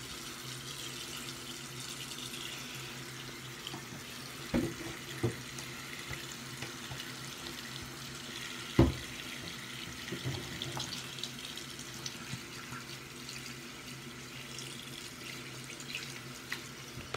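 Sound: running hot water from a tap

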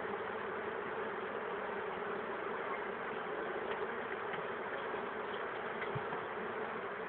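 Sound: honeybees buzzing

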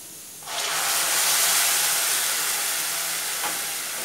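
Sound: tomato puree added to frying onions in a pan

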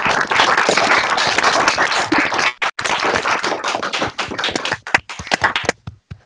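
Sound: applause over microphones

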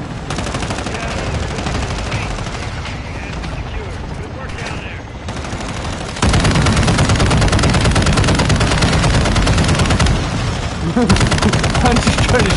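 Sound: gunfire in Call of Duty Warzone video game

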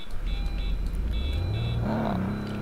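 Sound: car braking by itself in Roblox Greenville video game

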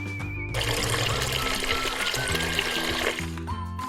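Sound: watering flowers, pouring water

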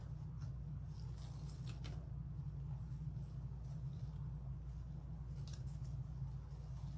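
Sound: scissors cutting deco mesh tails for a Halloween wreath

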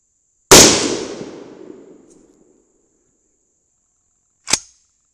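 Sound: 22 Nosler rifle firing a shot

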